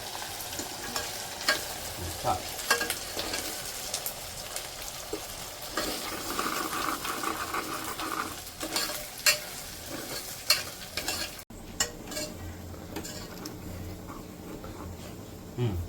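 Biryani ingredients stirred and mixed in a frying pot, a steady sizzle under repeated scraping strokes of a spoon against the metal, close and fairly loud throughout, with no talking.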